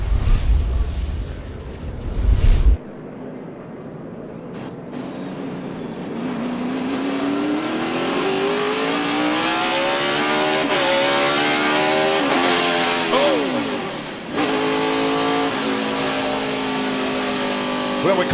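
Stock race cars at Sonoma Raceway roar, with one engine's pitch climbing steadily under acceleration, then dropping abruptly as a gear shift is botched. The engine revs up again against a constant loud track din.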